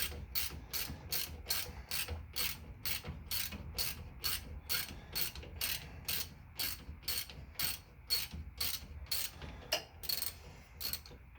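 A ratchet tightens bolts on a Jeep's spring-over-axle lift with a long, steady run of crisp, rapid clicks from close up, with no talking.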